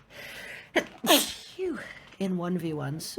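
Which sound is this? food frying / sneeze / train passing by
sneeze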